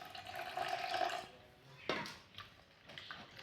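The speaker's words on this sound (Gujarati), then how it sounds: "આપણે થોડું થોડું પાણી રેડી" Water is poured little by little into malpua batter for a village-style Gujarati sweet, a soft trickling stream for about a second, then small splashes and stirring sounds, close and quiet.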